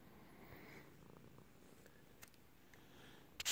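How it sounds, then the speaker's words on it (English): A soft, low tabby cat purr rumbles steadily and close by, with a brief rustle at the end. "He's purring just because he's near me."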